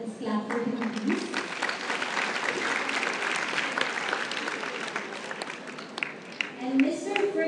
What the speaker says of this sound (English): Let's clap for him, please.